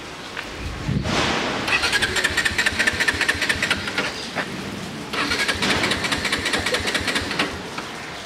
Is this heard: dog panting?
no